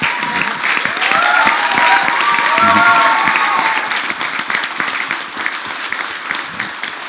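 An audience at the Bandaa trailer launch breaks into steady applause, a dense wash of clapping that swells and then slowly thins while a voice carries over it.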